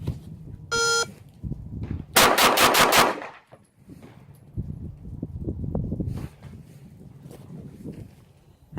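Rapid fire from a 1911 pistol: quick close shots in a tight burst amid a noisy range, with an electronic beep sounding just before.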